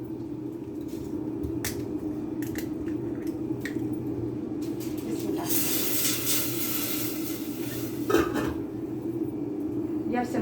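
Milk goes into a pan of browned vermicelli while it is stirred, a soft bubbling hiss under scattered clinks and scrapes of a utensil against the pan, with a louder splashy rush midway.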